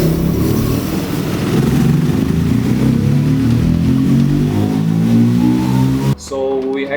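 A KTM 390 Duke motorcycle revving hard on a dyno, its single engine note rising steadily in pitch over several seconds, loud and close, before cutting off abruptly near the end.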